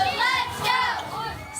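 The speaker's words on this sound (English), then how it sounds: "the crowd was going wild" Excited shouting and cheering from a crowd of elementary students at a May Day rally, a dense, steady wash of young voices close by with overlapping high-pitched calls.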